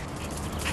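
A hypoglycemia alert dog gives a short, close vocal burst, a single brief bark or whine standing out against a steady background.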